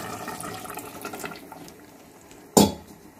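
Water goes into a pan of cooking broad bean curry with a soft splashing pour and light utensil clatter, ending in a sharp, loud pot clank.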